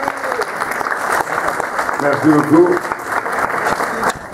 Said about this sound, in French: Applaudissements s'il vous plaît pour le Rav.